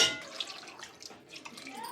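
Water poured into a pot of fish curry cooking with tender tamarind leaves, a brief splashing, trickling pour heard close up with no talk.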